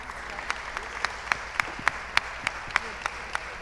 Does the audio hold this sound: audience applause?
yes